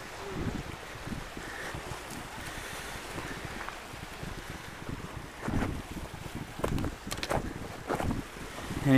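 Boat engine and water noise on the sea at Lesvos, with heavy wind buffeting the microphone, irregular gusts rising and falling over several seconds.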